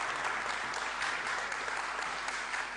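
Kırıkkale University students applauding at a political talk event, steady crowd clapping that holds at an even level for the whole stretch, heard from a moderate distance.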